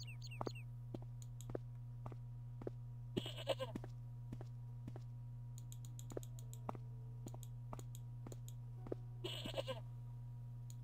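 A goat in the video game Broken Sword bleats in short repeated calls over a steady low hum, with sharp clicks scattered throughout.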